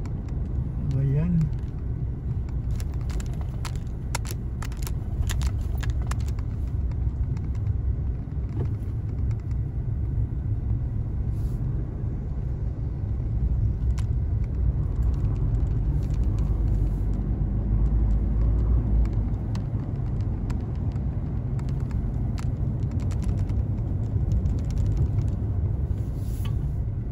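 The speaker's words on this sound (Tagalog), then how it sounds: "Yan, na-traffic tayo dito, yung papasok sa SBMA." Road traffic near the SBMA entrance on the way to Olongapo sounds as a steady low engine rumble heard from inside a vehicle in slow traffic, continuous throughout, with people talking over it.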